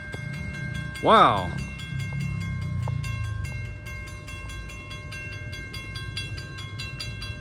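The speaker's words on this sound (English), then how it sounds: "we got a CSX train coming" A southbound CSX freight train approaches a storm-damaged railroad crossing, sounding a short horn blast over a steady rumble of rolling wagons, with a constant crossing bell ringing throughout; one brief exclamation is heard.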